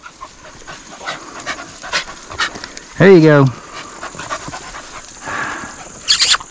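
Beagles from a pack on public land pant outdoors, with a brief rising whine or yelp in the middle; someone talks to the dogs over them.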